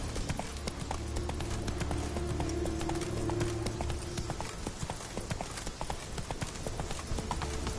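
Horse hooves clip-clop steadily at a gallop in The Witcher 3, a continuous rhythmic thudding that runs throughout with no talk over it.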